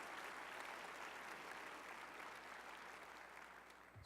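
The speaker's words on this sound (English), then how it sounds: "give Andy a great round of applause here" Steady, full audience applause from a large conference crowd fills the entire stretch, sustained and even before easing slightly at the end, with no speech over it.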